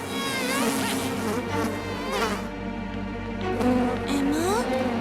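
Cartoon flies buzz in a busy animated scene, their high whine wavering over music and effects for about five seconds, fairly loud and steady with shifting pitch.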